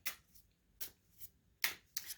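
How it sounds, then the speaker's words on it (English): Oracle cards being shuffled by hand in a quiet room, with four or five short, crisp riffling bursts spaced about a second apart, close and soft, with no speech. "I'm going to shuffle the cards a little bit"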